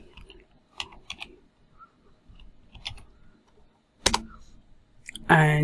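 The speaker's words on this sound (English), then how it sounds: "I'll have to type it in manually." Light keystrokes on a computer keyboard come in small scattered clusters at a desk while setting up a network switch, with someone talking quietly in between and a louder burst of clicks near the end.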